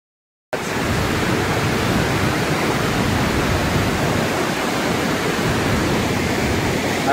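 Flash flood water roaring through Red Rock Canyon on the Ice Box Trail, a loud continuous broadband rush starting abruptly after a moment of silence and holding steady.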